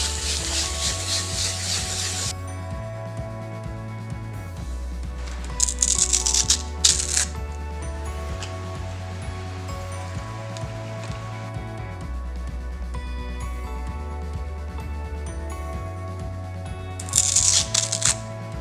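A BMW E46 headlight lens is sanded by hand, giving repeated rhythmic back-and-forth scraping strokes, close and steady, with a few brief louder rasping bursts.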